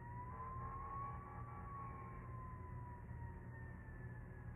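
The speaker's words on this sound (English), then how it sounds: "I don't know if y'all can hear the sirens," Emergency vehicle sirens wail outdoors, a faint, distant rising and falling tone over low background rumble, heard alone.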